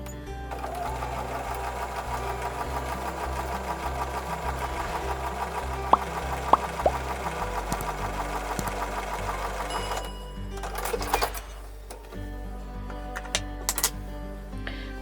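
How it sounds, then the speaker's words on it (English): A sewing machine runs steadily, joining quilt block pieces with a 1/4 inch seam, in a long continuous rhythmic whir with a few sharp clicks before slowing and stopping near the end. "I'm just going to sew these pieces together, right sides together with a 1/4 inch seam"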